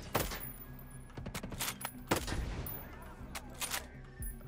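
Bursts of gunfire from the Ghost Recon Breakpoint video game, with several sharp shots and short rapid volleys arriving in irregular clusters at moderate loudness.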